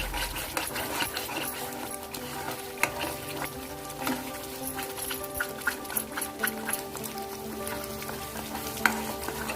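Carrot halwa being stirred and mixed in a pan with ghee, giving a steady scraping and gentle sizzling texture throughout, with scattered light knocks of the spoon against the pan and no talking.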